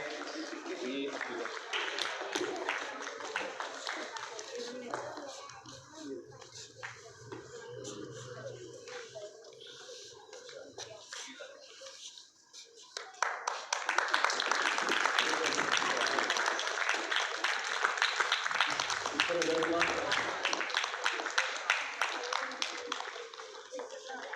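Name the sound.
audience applause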